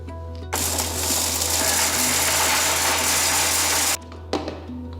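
Mixer grinder jar grinding roasted curry leaf powder for idli podi, a loud steady whirring grind starting abruptly and running about three and a half seconds before cutting off, with a brief restart near the end.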